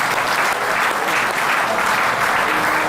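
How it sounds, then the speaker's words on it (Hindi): Audience applause at a yoga and bodybuilding session, a loud, dense, continuous burst of many hands clapping with no break throughout. "एक बार तालियां बजा दो भाई इनके लिए।"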